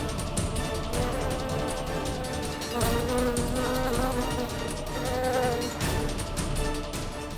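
Dense, steady swarm of dengue mosquitoes released from a bottle into a bedroom, a continuous whining buzz that stays fairly loud and close throughout with no voices.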